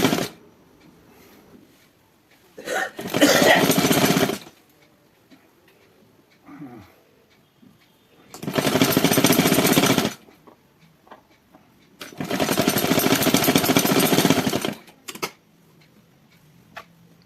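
A sewing machine stitches a sleeve onto a round armhole in three loud bursts of rapid whirring, separated by quiet pauses with light handling noises.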